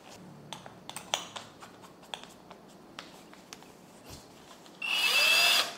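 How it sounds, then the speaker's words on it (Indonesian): Light clicks and taps give way to a short, high whirring burst of a budget cordless drill spinning near the end. "Nah, sekarang saya coba untuk ngebor ya."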